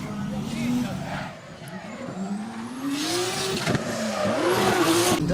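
D1GP drift race car at a Malaysian track, engine howling and revving with rising and falling pitch and tire squeal, while a commentator talks over it.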